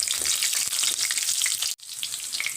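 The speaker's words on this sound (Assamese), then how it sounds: "এতিয়া ইয়াত দিম মই কেঁচা জলকীয়া, শুকান জলকীয়া আৰু তেজপাতখিনি" Green chillies, dried chillies and bay leaves crackle and sizzle loudly in hot oil with cumin, a close, bright spitting hiss that briefly drops out near the end before resuming.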